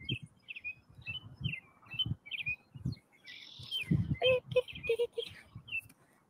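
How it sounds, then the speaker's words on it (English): A small bird chirps in short repeated high tweets near the mic, coming in bursts through the clip while a person talks steadily underneath. "The bird is singing a song"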